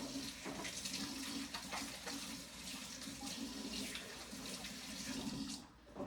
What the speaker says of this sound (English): And let me wash my hands.